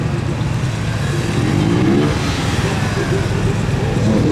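A Yamaha MT 25 motorcycle accelerating through a gymkhana course at a riding competition, its engine droning loud and continuous with rising revs, while a commentator talks over it.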